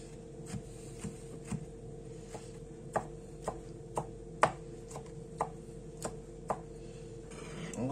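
Onions chopped with a knife on a board: steady, evenly spaced crisp knocks about every half second, close and clear over a quiet background hum.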